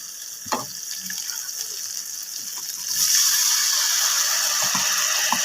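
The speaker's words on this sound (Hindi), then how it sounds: "इसके साथ ही इसमें हल्का सा पानी ऐड करेंगे।" A few soft clinks, then water starts pouring into a pan of salted potato vermicelli with a sudden steady hiss that continues to the end.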